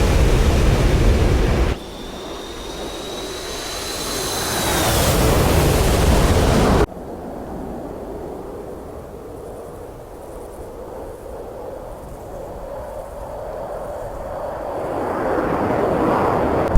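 A fighter jet in DCS World pulls a tight left turn on full afterburner, a loud broad roar with a rising whine that cuts off abruptly, then a steadier, quieter rush that swells again toward the end.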